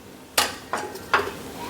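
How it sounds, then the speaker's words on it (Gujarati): A pressure cooker used for baking nankhatai biscuits is opened, giving three sharp metallic clanks of the lid and weight spaced about a second apart, close and fairly loud, with no talking. "હવે આપણે કુકર ખોલીને ચેક કરી લઈશું"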